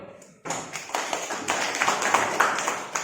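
Classroom applause from a group of high school students for a presenting student group, a rising wash of claps after a brief quiet moment, dense and close, with scattered sharper individual claps standing out.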